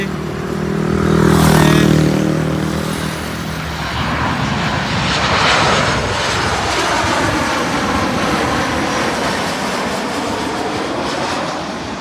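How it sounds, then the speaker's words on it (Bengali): A Malaysia Airlines jet roars overhead while landing at an airport, loud and rumbling as it passes close, then fades into a steady engine whine as it rolls away. "এই যে বিমানটা নামতেছে"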